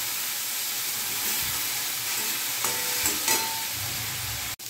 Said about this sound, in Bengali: এবার আমি আদা বাটা, জিরে বাটা আর লঙ্কা বাটা দিয়ে কষবো